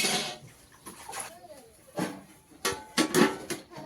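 Tap water splashing into a metal pot of eggs in a home kitchen, with intermittent clattering bursts and gushes between quieter moments, close and fairly loud.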